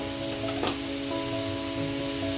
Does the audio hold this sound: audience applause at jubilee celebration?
no